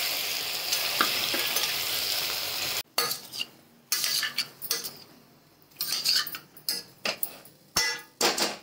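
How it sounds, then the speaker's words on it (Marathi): Eggplant and potato dry sabji stir-fried in a pan: steady sizzling at first, then the frying is broken by repeated scrapes and clatters of a spatula stirring the vegetables, close and fairly loud, with no talk. "आता चांगलं परतून घेते।"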